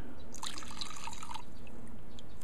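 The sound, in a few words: pouring gasoline out of a car carburetor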